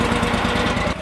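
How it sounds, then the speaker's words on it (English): Gasoline engine running steadily on a well drilling rig, a loud close rhythmic chugging drone with a slight drop at the very end. "So now that I have the engine running on the drill itself"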